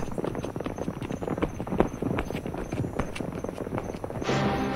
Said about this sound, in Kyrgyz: Дүбүртү улам алыстагандан алыстап